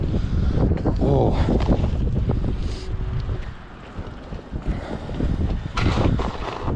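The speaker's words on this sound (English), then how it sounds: "But you can hear today's pretty windy." Strong night wind buffets a GoPro microphone in loud rumbling gusts, easing briefly midway before roaring back, with faint water and boat sounds beneath.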